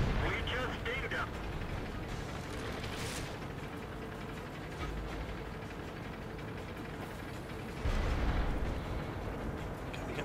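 Tank cannon shots and impacts from a World of Tanks battle with a Type 62 light tank: loud broadband blasts near the start, around three seconds and again near eight seconds, over a constant engine rumble and battle noise.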